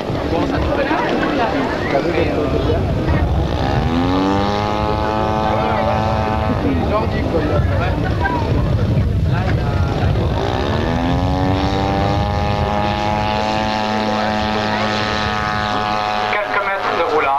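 A model airplane's propeller engine revs up for takeoff at a 1981 model aviation meeting in Yverdon, its loud buzzing whine sweeping up in pitch twice over a steady drone while someone comments in French throughout.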